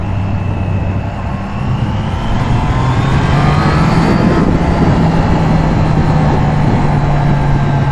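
A Triumph Trident motorcycle engine drones loudly and close while riding, its pitch rising steadily as it accelerates through the gear, with constant wind and road roar underneath.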